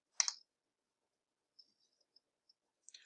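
Computer mouse clicking on a login button, one crisp click followed by a few faint, scattered ticks in near silence, close and quiet with no talk.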